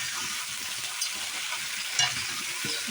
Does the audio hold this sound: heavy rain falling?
no